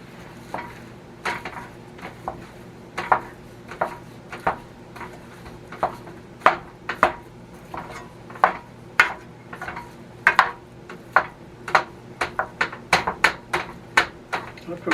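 A wooden spoon knocks and scrapes against a pan while breaking up meat for nachos, giving a steady series of sharp, close taps that quicken toward the end, over a low background hum.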